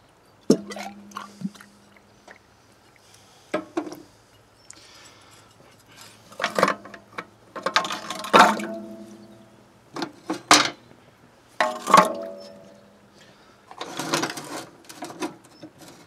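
Seized rusty metal parts clank and clatter one after another as they are tossed into a bucket of citric acid solution, giving irregular loud knocks and rattles with short quiet gaps between them.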